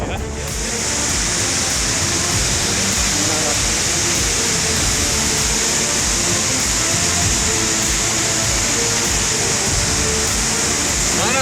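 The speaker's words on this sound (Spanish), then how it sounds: "Las masas de agua inundaron el pueblo más cercano y sus alrededores." Floodwater pours from the cracked wall of the Sardoba reservoir dam in Uzbekistan, a loud, continuous broadband roar of rushing water with no break, heard up close.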